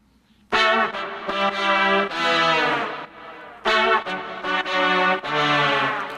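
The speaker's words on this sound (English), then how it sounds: "And when you listen to those horns together," Layered horns from a song play two bold, bright phrases together, loud and close, with crisp attacks and warm sustained chords and no vocals.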